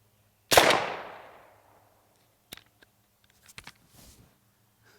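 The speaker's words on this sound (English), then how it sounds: "We're going to take our first shots. This is 22 long rifle hypersonic." A single loud, sharp .22 Long Rifle hypersonic rifle shot cracks at a target on a 10-meter range, its echo decaying over about a second, followed by faint small clicks and handling noises.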